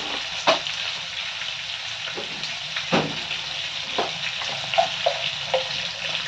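A piece of cinnamon drops into hot oil while the Bengali vegetable dish Bhojohori Manna is being cooked, giving a steady sizzle broken by sharp crackles and pops close by.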